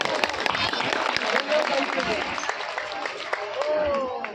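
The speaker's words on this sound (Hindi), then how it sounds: "इनके लिए बहुत जोरदार तालियां बजाएं" A crowd at a temple fundraising gathering applauding steadily, dense clapping filling the whole stretch with a voice or two mixed in.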